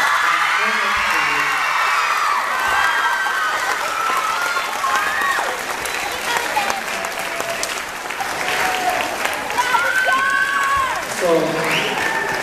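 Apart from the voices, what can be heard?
audience applause for school band students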